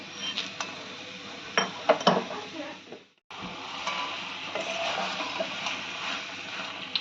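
Cooked beto shak greens and vegetables being stirred in a pan with a little added sugar, with soft scraping, light clinks and a steady low sizzle, briefly cut out in the middle, close and moderately quiet.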